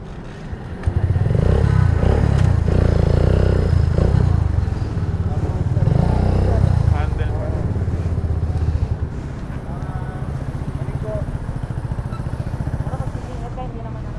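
A Kawasaki W175 motorcycle engine starts and runs at a steady, loud idle at a group ride meet-up, with chatter and some clatter around it.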